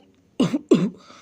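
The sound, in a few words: cough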